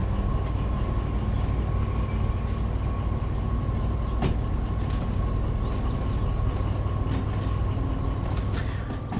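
A diesel locomotive in the Derail Valley railway game backs up in reverse. A steady, loud engine drone holds for about nine seconds with a faint tonal whine, a brief click partway through and no speech.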